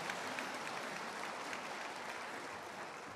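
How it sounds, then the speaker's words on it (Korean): A church congregation claps in congratulation at an infant baptism service in a Korean Presbyterian church, a broad, even wash of applause that stays fairly faint and steady throughout. "축하의 박수 주시기 바랍니다."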